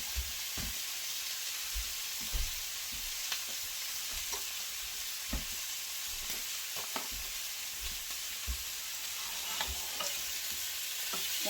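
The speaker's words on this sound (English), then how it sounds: "let me get these onions in the pot with the greens, with the meat. Get those cooked down" Onions and peppers fry in a pot with greens and meat for Guyanese cook-up rice, a steady soft sizzle broken by repeated spoon stirs and knocks against the pot, with no talk.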